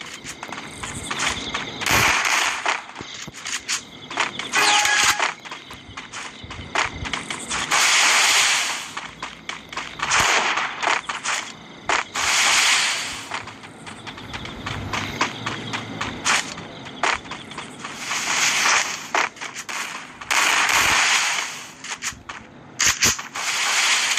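Shotgun blasts in a video game match, a series of sharp, loud bursts spread irregularly across the stretch with brief pauses between them and no talking over them.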